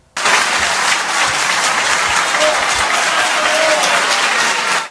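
Recorded applause at a conference, with dense, loud and steady clapping from a large crowd lasting about five seconds. No distinct shouts stand out.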